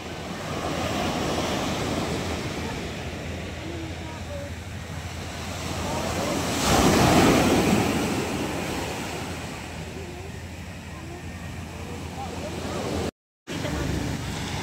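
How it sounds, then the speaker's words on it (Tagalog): Sea waves at a fish terminal in Tanza, Cavite, a continuous heavy wash of surf with wind rumble, swelling louder midway before settling back. "Malaki ating gulong ng alon"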